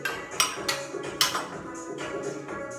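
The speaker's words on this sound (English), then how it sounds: "So I'm going to raise it up one more notch," A cable row gym machine is raised one notch, giving a few sharp metallic clanks and clinks close by, with a quieter rattle between them.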